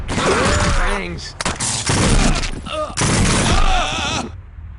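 Loud bursts of flashbang grenades going off during a SWAT 4 multiplayer match, several broadband blasts in quick succession, with talk and game sounds mixed underneath.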